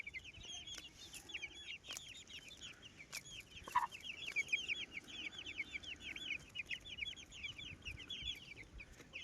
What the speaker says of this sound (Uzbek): Mana jo'jalar.